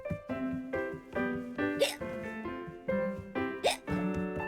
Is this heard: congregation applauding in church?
no